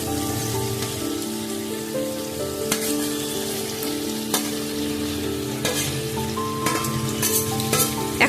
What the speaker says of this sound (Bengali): আরও একটু কষিয়ে নিয়ে দিয়ে দিচ্ছি ভেজে রাখা চিকেন পকোড়াগুলো।